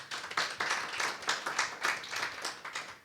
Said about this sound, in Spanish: Un fuerte aplauso, vamos a orar.